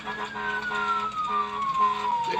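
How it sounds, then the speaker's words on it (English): An ambulance siren wails continuously at close range, its tone sliding steadily downward as it sounds, with engine noise underneath and no talk. "They smashing the shit out of that horn."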